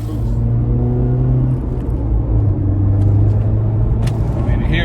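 Inside a Honda Civic Type R FK8 fitted with a PRL high-volume intake, a steady loud engine drone and road rumble fill the cabin, with pitch shifting slightly as it drives and brief faint voices.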